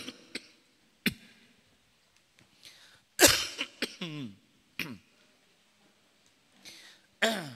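A man giving an Islamic religious talk coughs and clears his throat several times, short sharp bursts separated by quiet pauses, fairly close and moderately loud.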